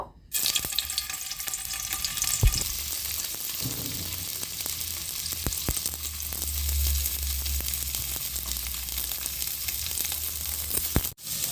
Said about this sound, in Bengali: এগুলোকে আগে আমি একটু হালকা ভেজে নেব